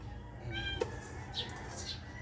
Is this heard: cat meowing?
yes